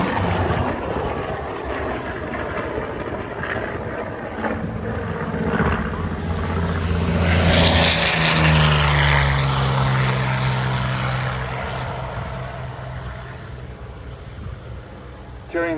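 A P-40 warbird with an Allison V-1710 V12 flies past at an airshow, its propeller engine droning loud and steady, swelling as it nears and then fading away.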